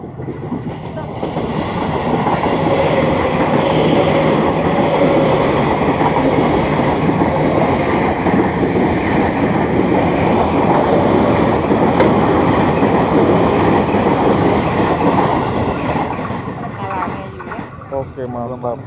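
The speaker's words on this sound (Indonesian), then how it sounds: "Kereta, ada kereta kayaknya deh." A train rumbles past at close range beside Bojonggede traditional market in Indonesia, a loud steady roar with clattering wheels that swells and then fades, with voices faintly underneath.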